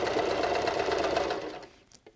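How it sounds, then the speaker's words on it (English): A sewing machine running a regular straight stitch down the side of a surgical face mask, a close, steady mechanical whir that runs evenly and then winds down and stops near the end. "Now we're going to sew down the side. This is just a regular straight stitch."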